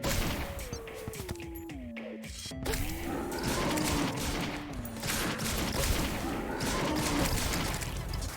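A gun fires in rapid bursts in the Calamity mod of a video game, giving a dense, continuous volley of sharp shots layered over tonal game sounds.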